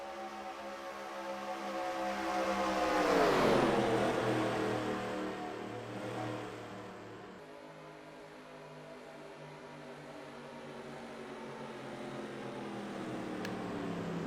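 Race cars at speed in a Talladega Superspeedway racing game, an engine drone that rises into a loud passing whine, sweeps down in pitch like a car going by, then settles into a steadier, quieter hum.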